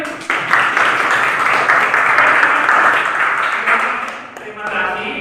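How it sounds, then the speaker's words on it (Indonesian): A room full of teachers applauds a presenter at a coaching session, a dense burst of clapping that holds steady for several seconds and then fades. "Aplaus untuk Muhajir."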